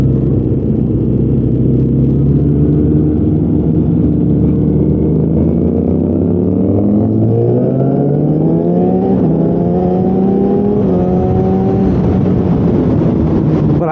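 Yamaha FZ1 motorcycle engine heard loud and close while riding in a group, a steady rumbling drone that rises in pitch through several upshifts as the bike accelerates, no talk.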